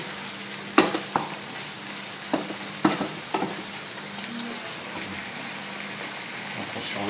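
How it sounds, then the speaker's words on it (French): Tomatoes sear in a hot pan for a roast beef sauce, giving a steady soft sizzle. Sharp clicks and scrapes from stirring break in now and then, close by, with no talking. "On va les laisser encore légèrement saisir."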